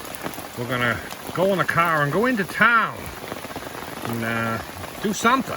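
Steady rain patters on surfaces outdoors at a rural spot in Maine, a constant hiss that continues beneath people talking.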